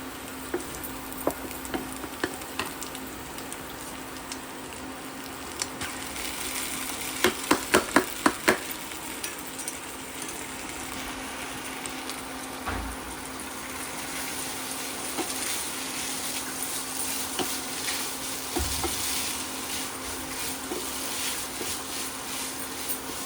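Chow mein fries in a pan with a steady sizzle, broken by stirring clatters and a quick burst of utensil taps against the pan.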